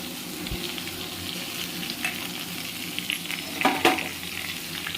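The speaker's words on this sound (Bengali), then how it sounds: "ভেজে নিলাম এতে এবারে দু রকমের সর্ষে দু রকমের লঙ্কা আর রসুন বাটা আছে একটু দিয়ে দিলাম" Onions already fried with two kinds of mustard seeds, two kinds of chillies and garlic paste sizzling in a pan, with a steady hiss and a few stirring scrapes and knocks near the end.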